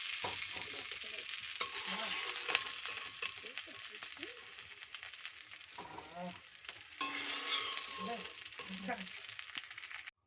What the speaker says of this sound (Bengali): কলার মোচায় ডিম দিয়েছি, ওই জন্য তেলটা ওরকম ভাবে ফুলছে